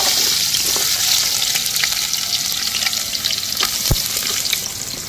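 Chopped small onions (shallots), about half a kilo, sizzle and fry steadily in a pan for a fish head curry, a continuous hiss with occasional stirring scrapes and clinks.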